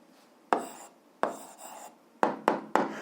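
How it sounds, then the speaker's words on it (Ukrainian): Handwriting an answer to an algebra equation: a few short, sharp pen or chalk strokes and taps in quick bursts, close and fairly quiet, with no talk. "Записуємо відповідь, пишемо відповідь."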